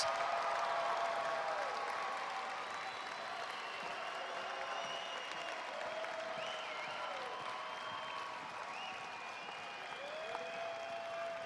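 Sustained applause from a large audience at a high school graduation ceremony fills the space, steady and dense, with a few faint whoops over the clapping.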